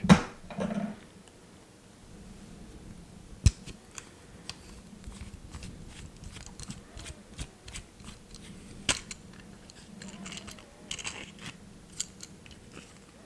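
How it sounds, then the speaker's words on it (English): Faint plastic clicks, snaps and scraping come close up as a Japanese pen is twisted and pulled apart, with a couple of sharper cracks among quieter fiddling. "I'm gonna try opening one to see what it sounds like."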